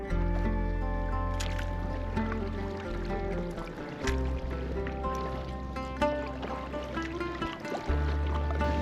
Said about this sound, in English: So we're actually kayaking on the Nile.